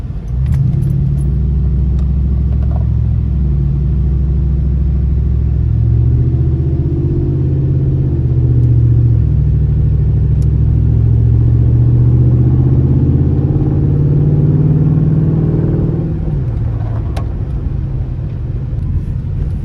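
An SRT Jeep with newly upgraded brakes drives steadily with a loud, continuous engine and road rumble, the tone rising and falling as it slows, then easing off near the end; no one talks.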